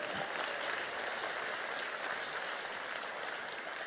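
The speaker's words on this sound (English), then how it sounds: "Yeah, you can clap about that one." A church congregation breaks into sustained applause, a dense, even wash of many hands clapping at once that holds steady throughout.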